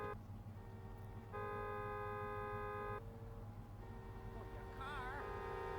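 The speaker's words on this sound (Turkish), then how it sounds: "Evet diğer arabalar kornaya basıyor ama biz kornaya basamıyoruz." Car horns honk in GTA San Andreas, faint sustained horn blasts of a second or two sounding one after another over a low, steady traffic rumble, with no speech.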